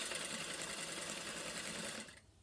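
A sewing machine runs a fast, continuous stitch over fabric-covered welt cord for about two seconds, close and steady, then stops abruptly.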